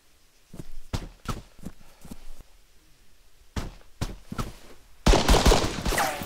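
Gunfire in the military shooter game Arma 3: scattered single shots and short bursts crack out over the first seconds, pause, then resume before a dense, loud volley takes over at the end.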